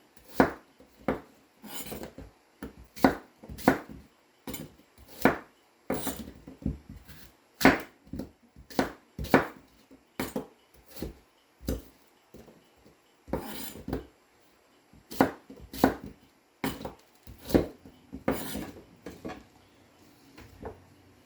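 Apples being cut into pieces with a knife for juicing, a series of sharp, close chops and knocks on a board, irregular and separated by short pauses, with no voices.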